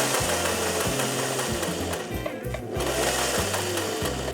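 A sewing machine runs continuously while stitching corset top fabric, giving a close, steady mechanical whir with a rapid pulsing needle rhythm.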